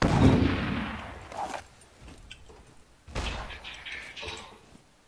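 Gunfire during a cabin battle at a bunker in SCUM, two muffled heavy bursts with reverberant tails separated by a quieter gap, fairly distant and dull.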